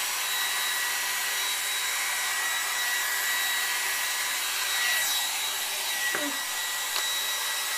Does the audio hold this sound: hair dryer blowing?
yes